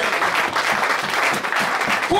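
Steady applause from a church congregation during a sermon fills the whole short stretch, dense and fairly loud with a crowd murmur underneath.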